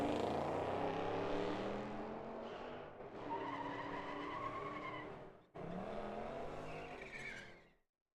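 A Corvette drag racing car screams down the track at a drag strip: a loud, high-revving engine drone rising through the gears, broken by a sharp shift, then fading off, with no speech.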